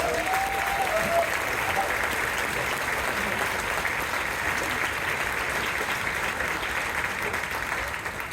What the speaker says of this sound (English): Can we give a round of applause for our custodians?